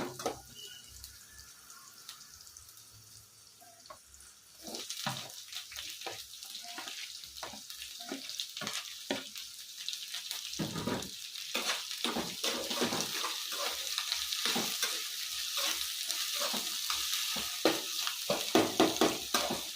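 Capsicum tipped into hot oil already frying with ginger and garlic for a curd-based gravy: a quieter sizzle swells into a loud, steady crackle with scraping stirs and spits, close up and without talk.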